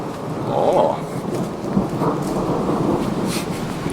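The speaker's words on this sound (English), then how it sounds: "That's some nice thunder right there." A low rumble of thunder rolls on through a rainy storm outdoors, loud and sustained for several seconds with a brief swell near the start, and no one speaks.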